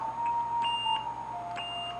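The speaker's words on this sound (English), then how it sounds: "I want to turn on the beeper." Built-in beeper of an old laptop, short electronic tones at a few pitches sounding in quick succession over a faint steady hum, close and clear with no voices.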